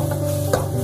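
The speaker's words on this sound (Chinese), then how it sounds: "这里我们要快速的给它翻炒，翻炒均匀， 把所有的木耳和鸡蛋炒至入味" Wood ear mushrooms and eggs being stir-fried in a wok, a single quick scrape of the spatula over a low steady sizzle and hum, close by and brief.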